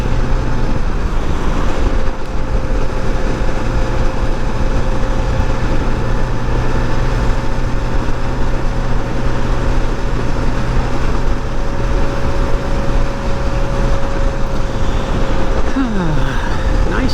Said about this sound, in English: I like riding the Goldwing. It's so much smoother.